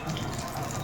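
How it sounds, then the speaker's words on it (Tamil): Oil poured into a cooking pan makes a brief, continuous liquid gushing sound, close and moderately quiet, lasting under a second with no speech. "சட்டி வந்துட்டு எண்ணெய் ஊற்றுறேன்."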